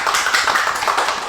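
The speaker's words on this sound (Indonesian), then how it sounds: "Tepuk tangan lagi dong." A small studio audience applauds a pencak silat gold medalist with dense, steady clapping that lasts about a second, loud and close with no voices over it.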